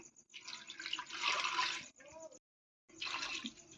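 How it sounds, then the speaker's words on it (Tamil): Water pours steadily into a pot in a rushing splash, stops briefly in a short silence, then pours again. "இப்போ வந்து கடங்கு மூழ்கிற அளவுக்கு கொஞ்சமாக தண்ணி ஊற்றிக்கலாம்"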